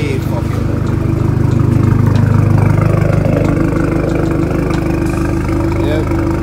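An Audi engine fitted with a new turbo runs at a steady idle, a loud, close, low throbbing hum with a smooth, even rhythm and no audible hiss.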